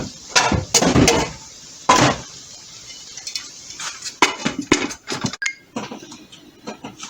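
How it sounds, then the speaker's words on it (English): A lid is set onto a simmering pot of beef for enchiladas, a run of close metallic clinks and knocks, clustered at first and then scattered irregularly. "I'm going to put the lid on"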